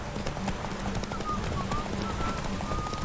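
Horse hooves gallop in a video game, a fast, steady clip-clop rhythm close and continuous under faint background game sound.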